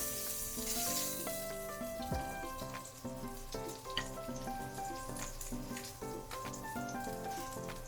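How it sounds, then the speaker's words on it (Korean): A soft, steady sizzle of trout skin frying in hot oil over high heat crackles quietly beneath gentle background music, with nobody speaking. "가열된 팬에 오일을 두르고 센 불에서 껍질부터 구워줍니다"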